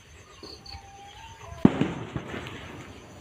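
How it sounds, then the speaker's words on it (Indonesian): Beside a rice paddy field, a sharp firecracker pop rings out, followed by a few fainter crackling bursts fading off at a distance. "dengar nggak guys, ada petasan"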